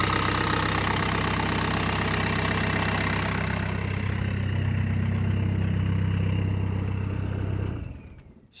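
A Volkswagen BEW TDI diesel engine swapped into a Chevy 1500 pickup idles steadily and close by with a low, even rumble, then cuts off abruptly near the end.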